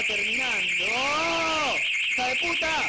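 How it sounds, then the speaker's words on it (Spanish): A motorcycle's electronic alarm wails with rising and falling warbling tones over a constant high beep, loud and nearby. "la alarma de la moto."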